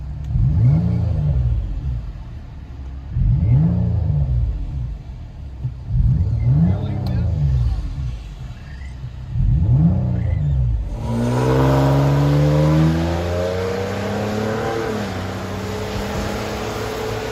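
A 2012 Nissan Maxima 3.5L V6 with dual exhaust and a muffler delete, heard from inside the cabin, revs loudly in four sharp bursts, then settles into a steady, droning hold.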